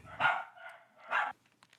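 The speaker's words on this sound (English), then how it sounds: "my dogs are barking really loud" Pet dogs in a Phoenix home bark twice in loud, sharp bursts close by, with a faint softer yip trailing after.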